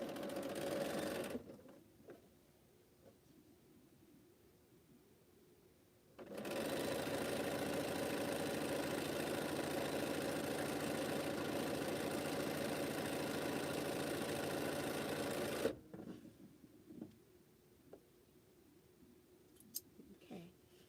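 Sewing machine stitching quilt fan block seams: a brief burst, a quiet pause, then a long steady close whir for about nine seconds before stopping, followed by light handling noises.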